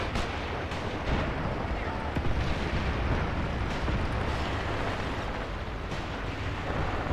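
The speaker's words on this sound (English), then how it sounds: "this one with the gun, shooting at very close range" Dense, booming close-range gunfire and artillery explosions in the WWII tactical war game Graviteam Tactics, a continuous loud roar of overlapping blasts and shots during a half-track attack.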